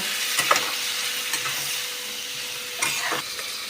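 Steady sizzling of meat and onions frying in a pan, with a few scraping stirs of a spoon breaking through the hiss.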